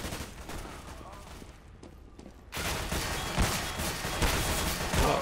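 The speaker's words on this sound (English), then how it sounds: "The P90 is quite accurate for a submachine gun" P90 submachine gun fire in Counter-Strike: quiet scattered shots at first, then after a sudden jump a louder, dense stretch of rapid gunfire, with a voice talking over it.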